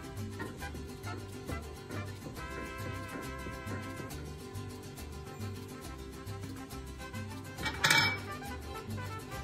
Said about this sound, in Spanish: He estado moviendo para que no se queme, para que no se pegue en el fondo.